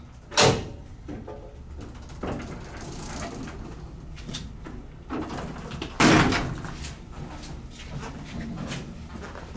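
The gate of a 1966 Otis hydraulic freight elevator is pulled shut, giving sharp metallic bangs and rattles, the loudest near the start and again midway, with handling noise between them.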